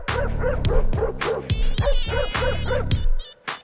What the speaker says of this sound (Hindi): इस घर में एक कुत्ता है।